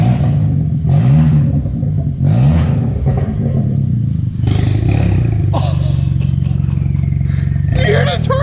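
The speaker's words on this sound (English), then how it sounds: "All right, rev it for me." A straight-piped Kia Forte GT turbo engine revs loud and close in repeated bursts, rising and falling with a rough, throaty exhaust over a steady idle rumble, with people talking around it.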